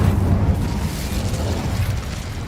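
An Incendio fire spell blast in the video game Hogwarts Legacy, a loud roaring burst of flame that starts strong and fades over a couple of seconds with a low rumbling body.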